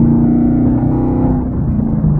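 A Chevrolet Camaro with its secondary catalytic converters deleted accelerates lightly in fourth gear, its exhaust giving a loud, deep, steady rumble that rises slightly in pitch as the car pulls.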